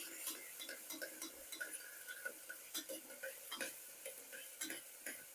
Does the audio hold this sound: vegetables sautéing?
yes